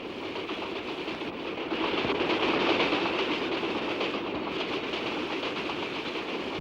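A passenger train runs along the rails, a loud continuous rumble with rhythmic clickety-clack from the wheels, swelling slightly partway through and heard alone without voices.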